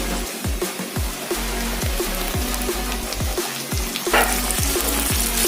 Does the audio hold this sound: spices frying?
yes